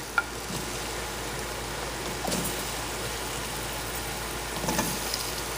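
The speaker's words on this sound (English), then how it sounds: "I'm going to go ahead and add our potatoes in here." Potatoes stirred in a pan of butter and flour, a steady close sizzle with soft scraping stirs and a couple of louder swishes, no talking.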